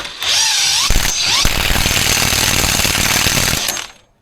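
An impact gun working on a 1989 Range Rover Vogue SE, its ratchet kicking in as a loud, close, continuous rattling hammer that runs for about three and a half seconds before cutting off, with no voices.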